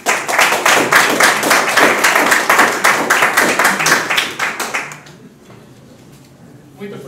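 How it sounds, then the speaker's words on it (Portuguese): An audience at a Brazilian music college lecture claps in quick, rhythmic bursts for about five seconds, then the applause stops and the room falls quiet. "Então, palmas para a nossa pessoa aqui."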